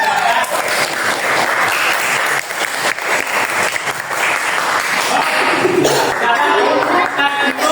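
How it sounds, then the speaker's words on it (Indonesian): Loud classroom applause for the pupils who built the tallest tower in a team-building game, a dense burst of clapping with children's voices and shouts mixed in. "Kasih tepuk tangan untuk yang menaranya tinggi."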